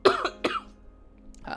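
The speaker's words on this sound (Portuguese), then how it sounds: "perdão, tossi" Two quick coughs close up, followed by a short throat-clearing sound after a brief pause.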